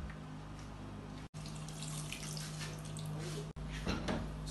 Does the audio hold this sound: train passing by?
no